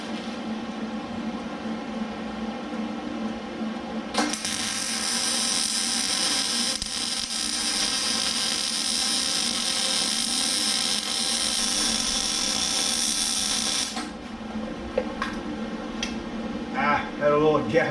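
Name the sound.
MIG welding thicker steel bracket material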